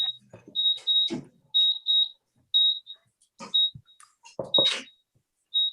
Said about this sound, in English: Okay, that's my timer coming off.